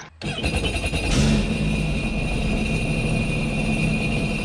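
A Sea-Doo Spark jet ski engine with a check engine light on cranks and catches, then settles into a loud, steady idle with a droning mechanical hum.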